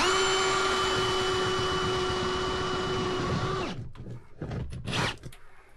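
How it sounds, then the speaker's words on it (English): A drill runs with a steady whining drone for several seconds while boring a hole, then stops, followed by a few brief knocks and rustles. "All I can do is drill a hole."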